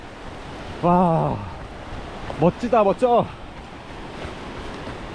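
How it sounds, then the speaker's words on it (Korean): Ocean surf rolling onto the beach at Yeongdeok during a coastal half-marathon run, a continuous broadband wash with wind noise, steady throughout, while a runner exclaims briefly over it. "파도 소리 들리세요? 파도 소리."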